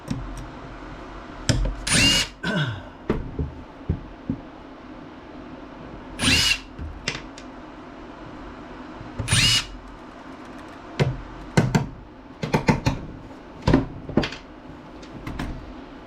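Power drill backing screws and bolts out of an oscillating fan being scrapped, with short whirring bursts, some louder and some faint, spread across quieter handling clatter.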